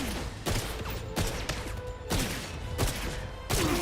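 Automated turret gunfire in the 007 First Light video game: repeated loud bursts of rapid shots, roughly every second, over a steady layer of game ambience.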